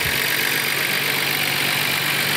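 A 1990 Nissan Skyline GT-R with 169,000 km and aftermarket suspension idles close by, its engine giving a smooth, steady, even rumble with no voices.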